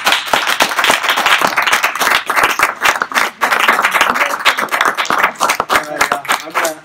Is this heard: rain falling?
no